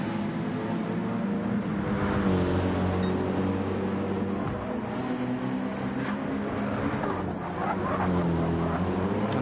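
GT race cars on flying qualifying laps at the Bathurst 12 Hour, engines droning steadily with rising and falling revs as they pass, a continuous mid-distance roar.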